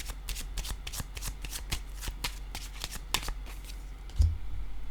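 Tarot cards shuffled and handled with quick repeated riffling flicks and soft slaps, close and fairly crisp, ending with a card set down with a dull thud; no talking.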